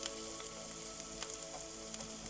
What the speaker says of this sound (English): when your pan's heated, your oil's nice and hot, you can go ahead and toss in your onion